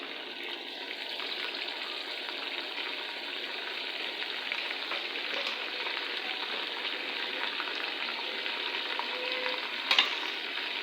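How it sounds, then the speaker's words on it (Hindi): Chicken frying together with onions in a pan makes a dense, steady hissing sizzle that carries on unbroken, with faint stirring scrapes and one brief clatter near the end; close and even in level, no speech. "और इनको भी प्याज के साथ फ्राई कर लेते हैं।"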